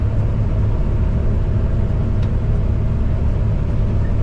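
A 300-horsepower combine harvester engine runs steadily in the field, a loud, continuous low rumble with no breaks and no talking.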